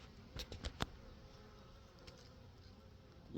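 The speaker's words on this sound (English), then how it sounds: "Bees!" Bees at a hive buzz faintly, with a few brief close fly-bys near the start over quiet outdoor background.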